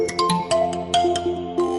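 Melodic phone ringtone built on a voice calling out the name Nawaz in a Pakistani style, with repeated bright chiming phrases that keep a steady rhythm, close and loud with no separate talk.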